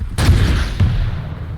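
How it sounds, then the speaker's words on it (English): Rocket explosions in a Warband-style duel video game, two heavy booming blasts close together, the second slightly softer, with a rumbling tail and no talking. "Oh, that's an insane rocket."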